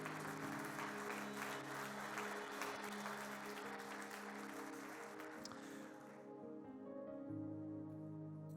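Steady applause from a church congregation fills most of the clip over a sustained musical backdrop, tapering off near the end as music continues.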